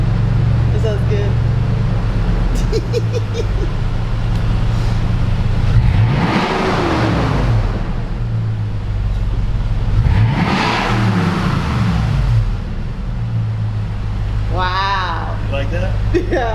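A Lexus V8 with a Magnaflow exhaust idles with a deep rumble, then is revved twice in long swells that rise and fall. People talk briefly near the end.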